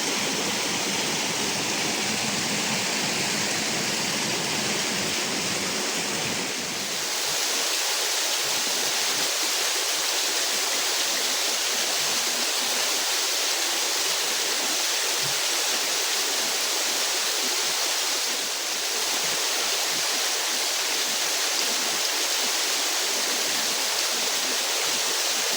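A forest stream flows steadily beside a Thai jungle fishing trail, its broadband rushing water filling the scene at close range, continuous and fairly loud with a slight dip in level partway through.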